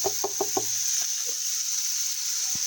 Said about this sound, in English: make sure this is still on saute while you dump in the veggies